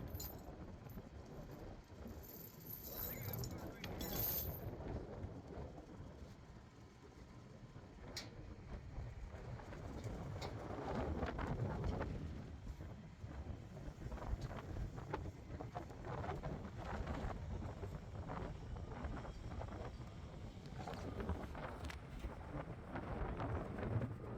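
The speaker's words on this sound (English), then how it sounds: "the wind here is just blowing uncontrollably" Strong wind blows steadily by open water while dropping inspection gear, a continuous loud rumbling roar buffeting the microphone with gusts and no talk.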